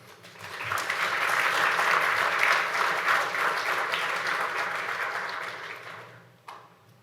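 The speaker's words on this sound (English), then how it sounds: "let's give him a warm round of applause" A keynote audience applauds, a full crowd of clapping that swells quickly, holds steady and dense, then tapers off near the end with a final stray clap.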